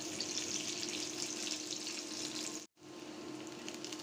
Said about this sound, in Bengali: পেঁয়াজ কিছুক্ষণ ভেজে নরম করে নিলাম।